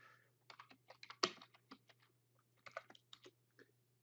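Keys tapped on a computer keyboard while entering a command at a command prompt, a sparse run of quiet, crisp clicks in two short bursts with one sharper keystroke, close and otherwise silent.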